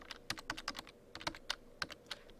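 Quick bursts of clicking keys on a computer keyboard, close and quiet, in two short runs of typing with a brief pause between them.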